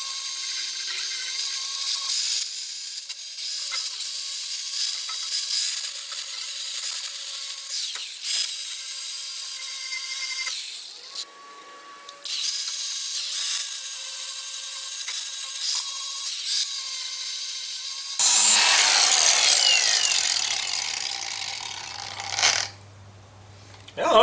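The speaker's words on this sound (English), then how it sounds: "I've just got a flap disc on here because I'm just trying to clean off this paint." A Milwaukee Fuel angle grinder fitted with a flap disc strips paint with a loud, steady whirring grind and abrasive rasp, cutting out briefly midway before surging again and winding down near the end.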